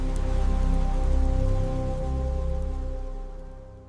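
Steady rain ambience for a neon cyberpunk city at night, a continuous dense wash of falling rain layered over low droning hums and tones, even and enveloping with no talk.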